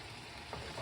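Chilies fry in a pan with a steady, faint sizzle that holds evenly through a very short stretch, with no voices over it.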